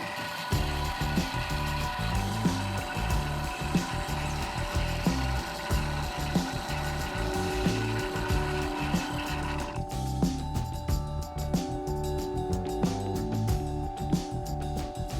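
A milling machine cutting a titanium knife blade for a framelock folding knife, a steady whirring and grinding drone with a rhythmic chatter that keeps going, the tone shifting partway through.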